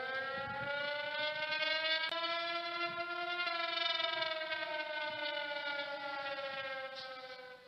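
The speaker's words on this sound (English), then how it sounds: "just as the ferry building siren was announcing 8 o'clock to downtown San Francisco" Ferry building siren in downtown San Francisco sounding the eight o'clock hour, a loud sustained wail with a steady harmonic tone that slowly falls in pitch, heard alone over faint low rumble.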